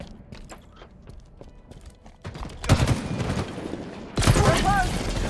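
Gunfire from a tactical shooter video game, with sparse shots early and dense bursts of rapid fire later, under steady talk.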